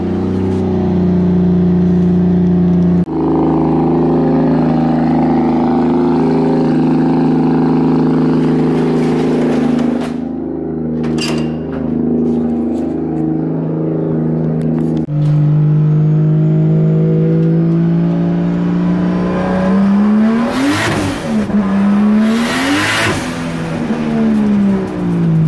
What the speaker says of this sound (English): I kind of just want to drive my own JZ car